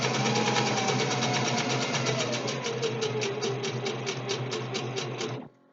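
A sewing machine stitches fabric for a Halloween costume with its needle set in the centre position, running in a fast, steady mechanical chatter up close before stopping abruptly.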